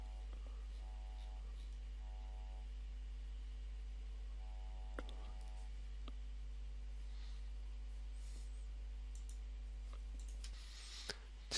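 A computer mouse gives a few sharp, faint clicks spaced seconds apart, heard up close over a steady low electrical hum in a quiet room.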